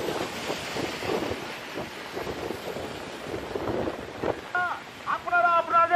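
Rough sea waves and gusting wind at Digha beach during Cyclone Remal, a buffeting rumble with surging wash, while a voice speaks and a siren-like tone rises toward the end.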